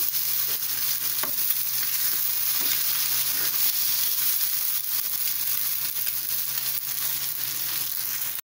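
Eggs frying and being stirred in a pan for a homemade egg dish, a steady close sizzle and hiss running the whole time with occasional scraping strokes and no talking.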